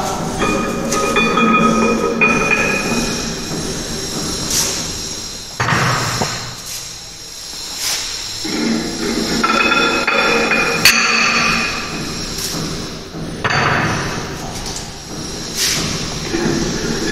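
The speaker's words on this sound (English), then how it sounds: "So like this, one by one you have to apply the pan" Heavy metal weight pans are loaded one by one onto a Brinell hardness tester for a test on steel. Loud clanks and metallic knocks land at irregular intervals against a hissing background, with no talk.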